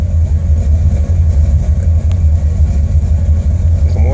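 Steady idle of a Buick Regal with a 455 V8 engine and CDS Stage-1 setup, a loud, even low rumble close by with no talk.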